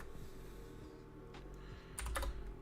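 Keystrokes on a computer keyboard entering an item into a D&D 5th Edition character sheet: a quiet run of soft clicks, then a louder brief burst of several taps near the end, with no talking.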